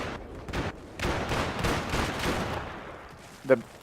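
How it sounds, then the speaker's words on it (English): Artillery shelling in an 8v8 wartime multiplayer game sounds as a dense run of booming blasts and bursts of gunfire, followed by one sharper crack near the end, heard under a caster's commentary. "They're just shelling him like crazy."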